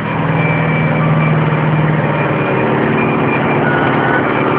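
A steady, loud diesel engine runs on an Orton McCullough road-rail vehicle during a workshop test, holding a constant low rumbling idle throughout with no pauses or speech.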